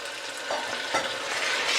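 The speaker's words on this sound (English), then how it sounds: "the onions are now ready, and they've taken on a really nice light golden brown colour, and we can add the meat straight into that" Lamb goes into a pan of sizzling, light golden brown fried onions for a lamb and potato curry, giving a steady close hiss with a brief louder burst as the meat lands and a stir follows.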